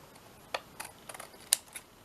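Paper ephemera cut with scissors: a handful of short, crisp snips spaced irregularly over a quiet background, close and fairly soft, with no talking.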